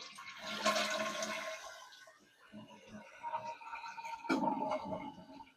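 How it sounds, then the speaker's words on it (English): A household toilet flushes after a float valve replacement, with a loud rush of water draining from the bowl, then a brief lull before a second surge as the tank begins refilling, heard up close and alone. "Let's flush it and see."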